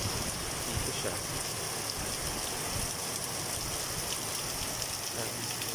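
Heavy rain from Tropical Storm Kristine falls steadily on a garden, a dense continuous hiss with pattering drops, constant and fairly loud throughout without clear speech.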